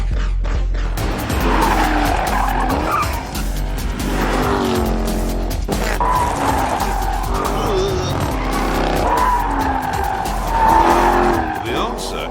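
A Jaguar XE Project 8 is driven on track past the limit of grip, tires squealing and skidding while the engine roars loudly and close. A voice talks over it throughout.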